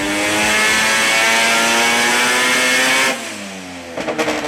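A turbocharged car engine running about 19 psi of boost revs on a dyno to around 9,000 RPM. Its loud, rising harmonic wail holds for three seconds, then cuts off sharply and gives way to lumpy, popping idle bursts.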